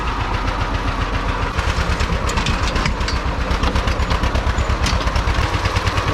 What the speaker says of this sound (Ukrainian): трактор завівся, то вже добра новина